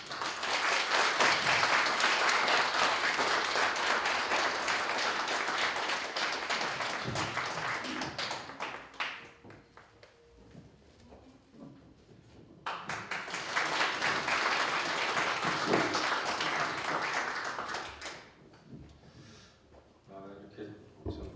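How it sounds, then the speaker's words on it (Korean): Audience at a humanities book concert claps loudly to welcome a professor. Two long bursts of dense applause are separated by a quieter pause, with a voice speaking faintly near the end. "자, 지금 정창덕 교수님 모실 때 우리 큰 박수로 환영을 해주면 감사하겠습니다"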